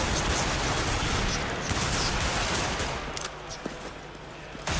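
Rapid automatic gunfire crackles densely in a Counter-Strike match on Dust2, including MP7 fire, sustained bursts that thin out toward the end.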